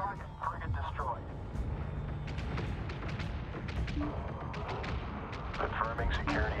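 A frigate is blown apart during a space battle in the video game Homeworld 3, with dense rumbling booms and rapid weapon fire rolling on continuously while radio-style voices talk underneath.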